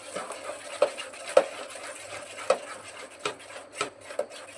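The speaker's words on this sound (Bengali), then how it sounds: "আবার একটু ভালো করে ফেটিয়ে নিচ্ছি" Sweet malpua batter made with palm fruit is beaten by hand in a bowl, giving rhythmic wet slaps and stirring strokes at uneven intervals, close and moderately loud, with no speech.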